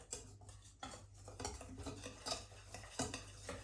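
Batter for homemade pancakes, made without baking powder, is stirred in a bowl, giving steady scraping and clinking of a utensil against the bowl with repeated soft strokes, close and moderately loud throughout.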